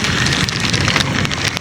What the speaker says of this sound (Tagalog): Wala nga lang tayong magandang video dahil umuulan.